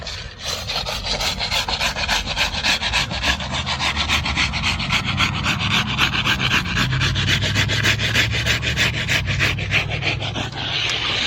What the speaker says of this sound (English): Now we'll take a float and hit the top of the drive right up tight to it and get ready for a broom.